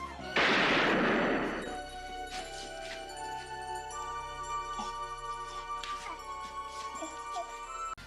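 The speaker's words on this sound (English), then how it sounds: "And decides to shoot Ray, killing him." A single loud gunshot bursts out in a film scene, then gives way to a quieter sustained musical score with ringing tones.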